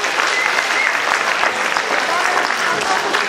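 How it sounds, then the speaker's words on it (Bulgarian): A large crowd in the village square of Arbanasi applauds steadily at a folk dance festival, a dense unbroken wash of clapping that stays loud and even from start to finish. "Аплодисменти!"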